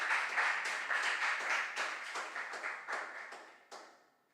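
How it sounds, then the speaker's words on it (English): An audience at a junior science and maths quiz qualifier claps for the contestants, a dense burst of handclaps in uneven waves that gradually thins out and fades over about four seconds. "please let's clap for them."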